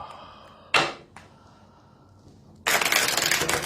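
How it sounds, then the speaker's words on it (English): Two bursts of crisp riffling card shuffles, a short one early and a longer steady one at the end, close and fairly loud with quiet room sound between. "What are you shuffling? Pick a card, any card."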